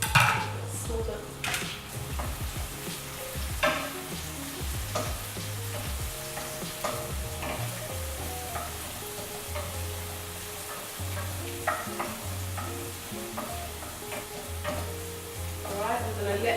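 Crushed garlic frying and browning in a pan, a steady sizzle with frequent stirring scrapes and clinks of utensil against cookware, close and continuous with no talking.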